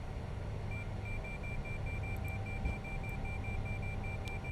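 A faint, rapid series of evenly spaced high beeps repeats steadily over a constant low engine drone: an ILS marker beacon tone in an Airbus A350 cockpit in the X-Plane 11 flight simulator.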